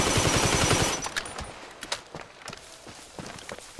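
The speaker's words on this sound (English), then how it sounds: "you shot a submachine gun me" Submachine gun fire in GTA V Online: a dense, loud burst of rapid shots for about a second, then scattered single cracks and clattering thuds fading into quieter background.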